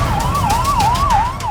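An ambulance siren wails steadily, its pitch sweeping smoothly up and down in a repeating cycle, loud and close against low rumbling traffic noise.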